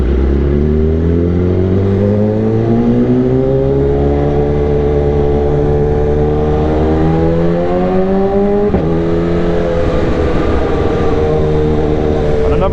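A superbike engine on the road, a loud continuous drone that rises and falls in pitch as the throttle is worked, close and steady throughout, with a brief dip in the middle and no speech.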